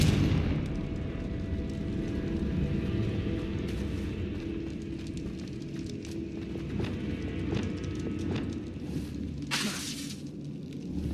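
A Confringo blasting spell from Hogwarts Legacy bursts near the end as one loud, sharp explosion, rising above steady game ambience and footstep-like clatter.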